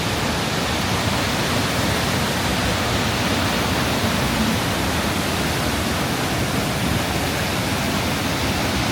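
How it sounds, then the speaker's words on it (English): A small waterfall right next to a restaurant and hotel rushes with a loud, steady, broadband wash of falling water that runs unbroken and close throughout, with no voices. "I love how that little waterfall was like right next to"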